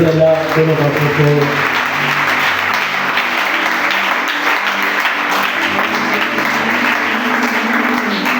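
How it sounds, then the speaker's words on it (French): A church congregation claps and cheers in praise of the Lord, loud sustained applause from a crowd that carries on steadily throughout, with a few voices faintly under it. "Tu peux acclamer pour le Seigneur."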